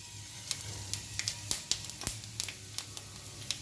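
Dried red chillies and spices crackle in hot oil as a tempering for vegetable khichdi, a soft steady sizzle punctuated by irregular sharp pops and spits, fairly quiet and close.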